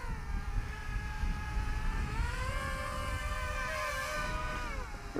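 FrSKY Rover3 tilt-rotor tricopter flying in wind, its rotors giving a steady high whine with several tones that shift and dip together, over gusty wind noise.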